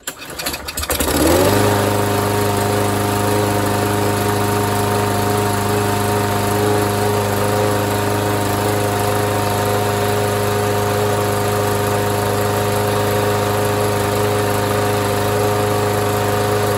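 A Kohler engine on a Craftsman lawn mower fires after carburetor cleaning and settles straight into a loud, steady idle, a constant droning hum up close with no talking.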